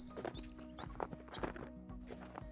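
Ridden horse at a walk in an arena riding lesson, steady hoofbeats clopping in an even rhythm at close range, with a faint whinny-like sound and background noise.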